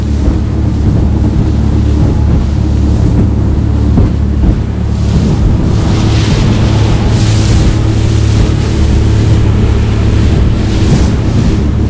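Outboard motor on a Savage Gannet 435 widebody boat running steadily underway on open water, a continuous low drone blended with wind buffeting and splashing waves throughout, no talk.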